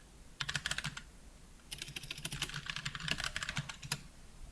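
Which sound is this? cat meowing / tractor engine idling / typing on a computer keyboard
typing on a computer keyboard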